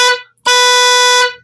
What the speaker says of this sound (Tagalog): Stock na tunog sa ating busina.